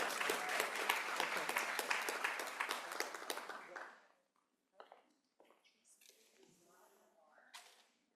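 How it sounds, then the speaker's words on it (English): Audience applause at a teacher pinning ceremony: dense, steady clapping for about four seconds, then it cuts off, followed by scattered claps and murmuring voices in the hall. "Let's give them a big applause."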